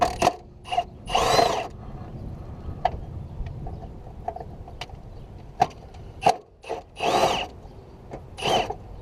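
Socket wrench work on the 12mm bolts of the negative battery terminal of a 2004–2008 Nissan Maxima, with ratcheting bursts, metallic clicks and scattered knocks close by, between quieter pauses and no talking.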